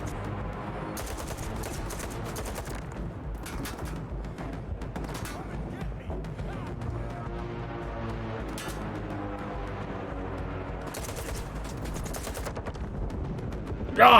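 Rapid automatic gunfire in the Stalker 2 video game, continuous bursts of close shots rattling throughout with heavy recoil, ending in a louder blast.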